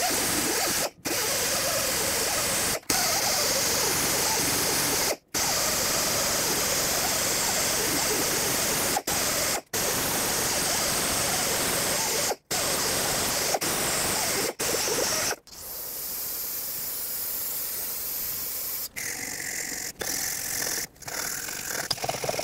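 A steady spray of water rinses a car hub during steering knuckle work on a 2005-2010 Chrysler 300. The hiss runs continuously and fairly quietly, broken by a few sharp clicks, and drops to a softer level near the end.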